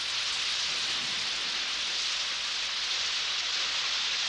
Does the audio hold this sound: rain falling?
yes